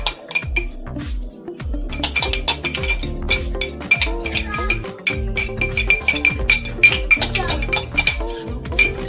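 Sofrito going into a Dominican-style balsamic baked chicken and potatoes dish, with rapid repeated clinks and scraping of utensils against a dish, close and busy throughout, layered over background music.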